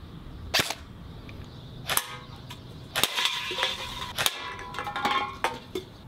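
Airsoft gun fitted with a 3D-printed red dot sight firing at cans outdoors: several sharp, separate snapping shots spaced a second or so apart, with faint metallic clinks between them.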